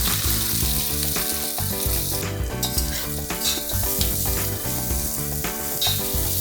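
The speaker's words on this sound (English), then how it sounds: "Now you need to saute these onions till they are golden brown in color." Sliced onions sauté in oil with whole spices such as star anise for a prawn biryani, giving a steady close sizzle and frying hiss with repeated stirring scrapes throughout.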